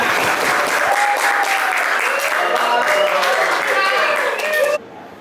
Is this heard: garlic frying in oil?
no